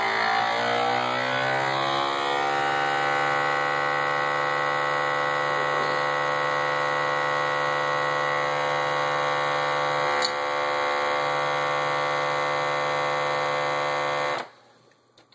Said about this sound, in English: the vacuum sealer, when I plug it in,